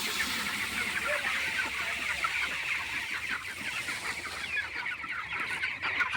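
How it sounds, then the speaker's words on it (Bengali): A flock of chickens clucks busily at feeding time, a dense overlapping chorus of close calls and pecking fowl sounds throughout. "কত মুরগি দেখো খেলতেছে।"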